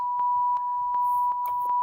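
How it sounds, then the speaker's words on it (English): A steady electronic beep tone sounds continuously, with short regular clicks about every 0.4 seconds, signaling that a live presidential address is about to start; no one speaks. "Oh, because of the beep."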